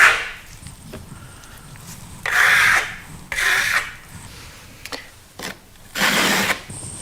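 A steel trowel compresses a FirmoLux Piatto plaster finish in long scraping strokes, loud and close, arriving in separate sweeps with short pauses between them.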